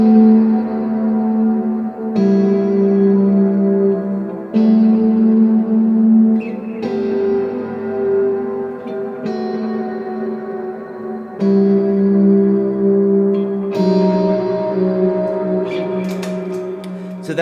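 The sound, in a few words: guitar playing harmonized thirds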